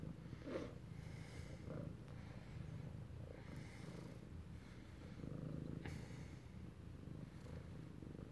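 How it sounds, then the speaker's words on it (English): A pet cat purrs steadily up close, a continuous low rumbling drone with slight rhythmic breathing swells, fairly quiet and alone with no talk. "Thank you for loving my cat."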